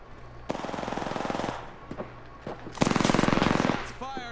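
Automatic gunfire rattles in a ranked battle-royale video game, with two long rapid bursts, the second louder and denser, separated by a few single shots and quieter game sounds.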